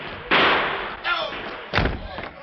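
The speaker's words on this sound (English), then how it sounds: "There goes Clay, tucking out the back door." A door slams in a Western radio drama, three loud, sharp thuds spaced about a second apart, each with a short ringing tail.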